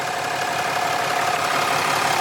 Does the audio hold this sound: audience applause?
no